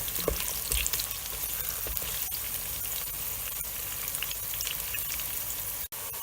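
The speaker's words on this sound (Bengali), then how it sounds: "তেলে প্রায় 1 মিনিট ধরে পেঁয়াজগুলা পেঁপেগুলো" Onion and green papaya fry in hot oil for a Bangla chicken-papaya curry, giving a steady close sizzle and crackle with occasional soft stirring scrapes and no talk.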